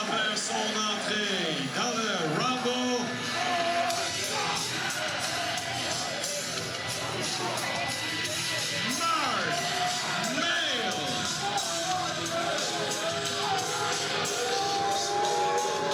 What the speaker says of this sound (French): Et la foule de Lévis l'aime peut-être pas